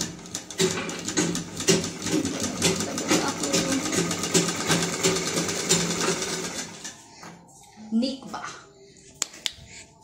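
Fast continuous rattle of a new sewing machine stitching, close and steady for several seconds, then stopping, with a person speaking over it and a few faint clicks afterward.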